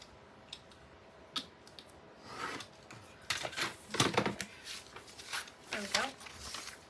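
Scissors cut paper ephemera for a black-and-white craft piece: a few soft isolated snips, then a denser run of close, crisp cutting clicks and rustles toward the end, with no talking.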